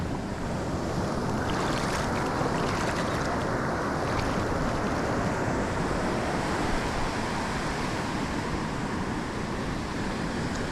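Ocean surf washes continuously onto a beach at roughly three-quarter tide during beach worming, a steady loud roar of breaking and rushing water with wind noise, no clear single crash standing out.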